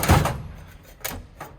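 A tool drawer holding multimeters, plugs and leads slides shut with a single firm thunk at the start, followed by two lighter knocks later, close and otherwise quiet.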